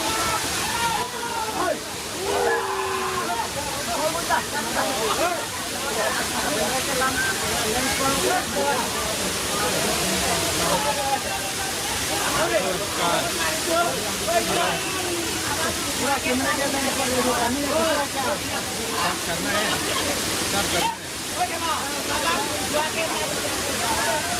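Lihonger waterfall pouring steadily, a dense, loud rush of falling water that runs without pause, with people talking over it.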